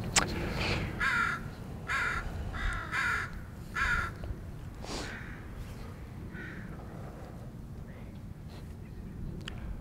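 Crows cawing outdoors in a Tacoma neighborhood in autumn, a run of four loud harsh caws in quick succession, then a few scattered fainter calls over a low steady background rumble.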